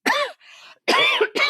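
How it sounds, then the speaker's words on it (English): A person coughs loudly and close by in two harsh bursts separated by a brief quieter breath. "iconic cough again"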